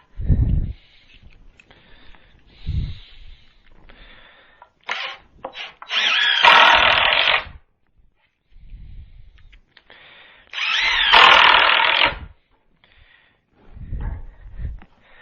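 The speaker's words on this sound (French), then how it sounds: "vous pouvez maintenant visser toutes les planches." A power drill drives screws into wooden planks while a vertical garden planter is built, sounding as two loud whirring bursts of a few seconds each, separated by quieter handling noises and breaths.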